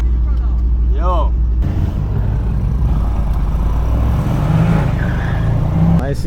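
A Mercedes-AMG C63S engine rumbles loudly and continuously during a UK AMG car cruise, with a deep steady drone throughout and a voice speaking briefly near the start and again at the end.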